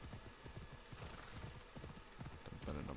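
Hooves of the horse Phobos in Assassin's Creed Odyssey, a steady clip-clop of hoofbeats at a walking rhythm, fairly quiet, with a faint whinny near the end.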